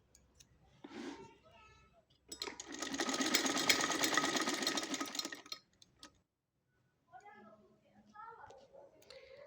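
A sewing machine stitching fabric for a baby cap runs in a loud burst of rapid mechanical clatter lasting a few seconds, with someone talking before and after it.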